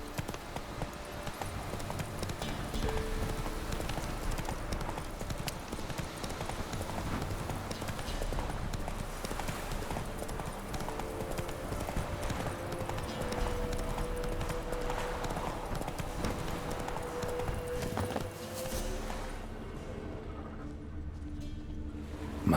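Horse hooves clip-clop steadily at a gallop in The Witcher 3, a continuous close rhythmic pounding layered over ambient game sound for most of the stretch, thinning out near the end.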